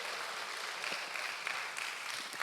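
A church congregation claps together during a worship service, a steady dense wash of applause that holds at an even level throughout.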